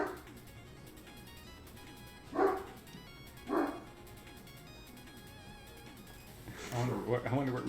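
A pet dog named Reese barks indoors, two short yips spaced about a second apart followed by a faster cluster of barks, faint and distant-sounding against a quiet room.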